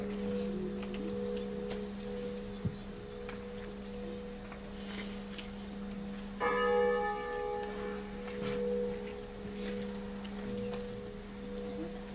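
A church bell at Marsal church in Lorraine rings out in a sustained, steady hum with overtones, then a brighter bell strike joins midway before fading, with no voices.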